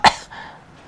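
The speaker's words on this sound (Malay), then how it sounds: "Terbatuk, aku minta maaf." A single sharp cough bursts out close and loud at the start, then trails into a faint breathy fade with no speech.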